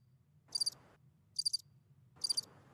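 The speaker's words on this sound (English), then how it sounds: "Crickets." Crickets chirping sound effect: three short, high, trilling chirp bursts at even intervals, fairly faint over a quiet low background.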